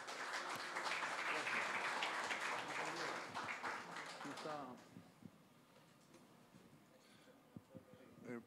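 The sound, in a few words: audience applauding the economist's introduction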